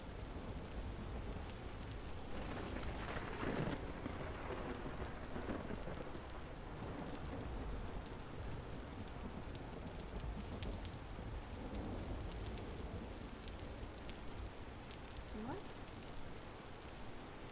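Steady rainstorm with rolling thunder in the Vintage Story survival game, a dense continuous hiss of rain on surfaces with low rumbles building around the middle, loud and constant throughout with no talk.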